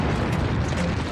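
Rocket drop explosion in the video game M.I.A. Mission In Asia, a loud, dense, rumbling blast that fills the whole moment with no pause.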